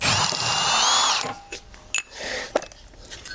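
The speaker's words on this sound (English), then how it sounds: "So we'll undo one subframe bolt." A power tool whirs loudly for about a second, undoing a subframe bolt on a Tesla Model 3, then stops, leaving a few faint clunks and light handling noises nearby.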